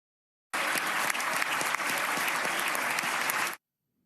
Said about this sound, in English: That is the big round of applause, the standing O that the governor got from his state's Republican-dominated legislature